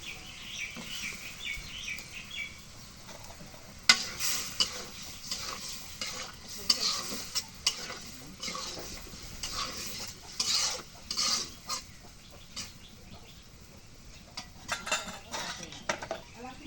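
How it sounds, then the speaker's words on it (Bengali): Potatoes stir-fried in a pan for a home-cooked greens dish, with steady sizzling and repeated scraping stirs of a utensil against the pan, moderately close and without talk. "এখন আলুগুলো দিয়ে দিই, দিয়ে একটু কষা হবে"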